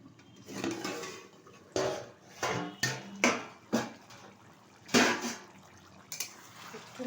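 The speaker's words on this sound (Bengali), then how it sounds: "ঢাকনাটা তুলে দিচ্ছি।" Lid lifted off a pot of cauliflower and potato curry on the stove: several close clattering metal knocks and scrapes over a low bubbling simmer, spaced through the clip with no talking.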